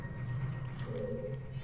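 Filling a bottle with water in Zelda: Majora's Mask 3D, a short liquid game effect with a brief bubbling, dripping swell midway, quiet and set against a low steady hum.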